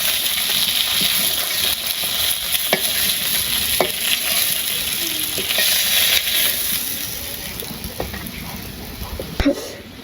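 Steady, close sizzling of a spice paste frying in a pan, with occasional scraping clicks as it is stirred, continuing throughout.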